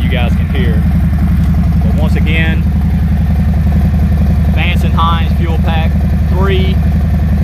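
A 2020 Harley-Davidson Low Rider S with a Vance and Hines Pro Pipe exhaust, Fuel Pack 3 and Arlen Ness Big Sucker stage 1 intake, rumbling at a loud, steady idle close by, with someone talking over the engine throughout.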